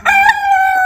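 A rooster crows once, loud and close, a sustained harmonic call with a brief cluck at the end, from a village yard full of chickens; no talking.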